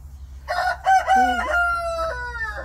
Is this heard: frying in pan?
no